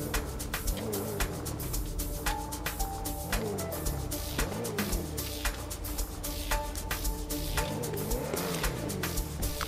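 A car drifting in the video game GTA, with a loud, continuous wavering tire squeal and steady engine roar that rise and fall in repeated swoops over several seconds, close and alone with no talk.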